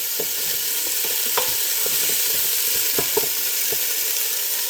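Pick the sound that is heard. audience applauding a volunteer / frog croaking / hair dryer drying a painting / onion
onion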